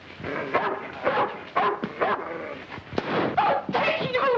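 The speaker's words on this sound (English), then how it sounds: "Get rid of that dog." A dog barks and yips in short bursts inside a 1930s film scene, near and fairly loud, with brief whimpering sounds between the barks.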